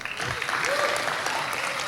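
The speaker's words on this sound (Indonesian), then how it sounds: "Sekali lagi beri tepuk tangan yang meriah." Applause from an audience after a dance performance by choreography students at a university arts expo, steady and fairly dense clapping that continues evenly across the short stretch.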